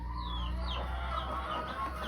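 Hens cluck softly in a farm barn with chicks present, with a few higher squawks rising over a low, steady background hum.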